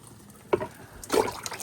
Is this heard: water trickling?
yes